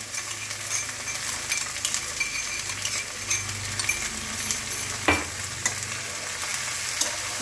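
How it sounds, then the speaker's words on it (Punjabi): Crushed mongre radish pods fry in a pan as a vegetable dish cooks: a steady, even sizzle throughout, close and moderately loud, with an occasional clink or scrape of a utensil against the pan and no talking. "ਥੋੜੇ ਦੇਰ ਆਪਾਂ ਇਹਨੂੰ ਵੀ ਫਰਾਈ ਕਰ ਲਾਂਗੇ"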